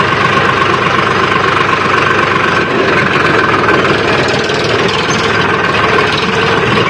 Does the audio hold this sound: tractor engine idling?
yes